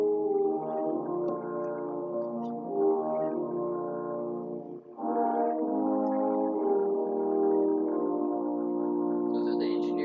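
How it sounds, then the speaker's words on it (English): A French horn section plays the Jurassic Park theme, sustained warm brass chords swelling and holding, with a brief dip midway before resuming at full volume. "All that sound is French horns."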